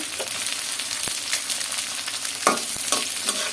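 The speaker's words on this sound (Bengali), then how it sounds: "পেঁয়াজ, রসুন, শুকনো মরিচ আর হচ্ছে কি যেন বলে, তেজপাতা, এগুলো একটু ভাজাভুজি করে" Onion, garlic, dried red chili and bay leaves for chutney sizzle steadily in hot oil, close up, with occasional clinks and scrapes of a spoon stirring the pan.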